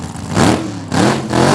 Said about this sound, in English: You'll hear them bring the revs up there